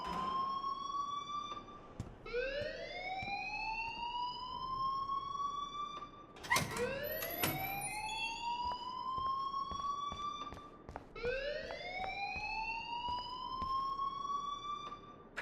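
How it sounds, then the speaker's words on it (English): A school fire alarm in the video game Life is Strange wails in loud, repeated rising sweeps, three long cycles with brief breaks, with no talking over it. "please turn off that alarm since that's your job"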